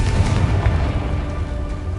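Confringo fire spell blasting in Hogwarts Legacy, a deep rumbling boom that stays loud and low through the whole stretch, with a dense roaring tail and no voices.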